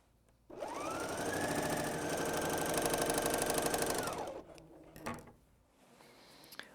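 A BERNINA L 660 or L 650 overlocker sews decorative rolled hems with three and two threads, running in one steady, close whirring stretch of about four seconds before stopping, followed by a few light mechanical clicks.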